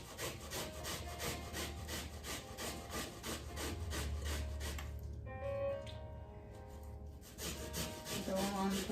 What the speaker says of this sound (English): I'm gonna grate some onion.